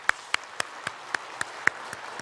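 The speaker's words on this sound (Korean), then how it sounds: "우리 박수 한번 보내겠습니다" A small church congregation at a Korean Sunday service claps in a slow, even rhythm, about nine distinct claps, fairly close and alone.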